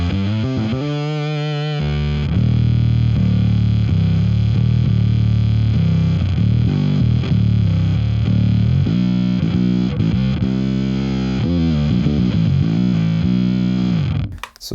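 Bass guitar runs through a dual fuzz engine pedal, growling thick and heavily distorted as a riff of sustained low notes and short stabs plays loud and alone, then cuts off abruptly.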